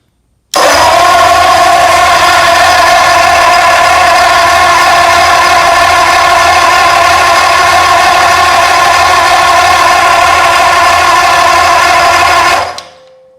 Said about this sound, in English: just spin this thing over